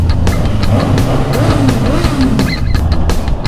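An inline-four naked motorcycle engine revs loudly and steadily at close range, a continuous roar with rising and falling pitch and no talk over it.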